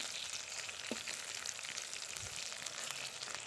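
Large eggplant pieces fry in a pan with a steady, faint crackling sizzle, continuous and even throughout.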